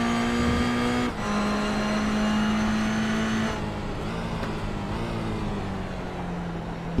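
GT3 race cars at Daytona International Speedway in a racing game, a steady high engine drone with shifting pitch as cars run in a pack, loud and sustained with brief tire and passing sounds.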